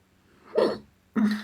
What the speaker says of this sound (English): Me with my hiccup, pardon me.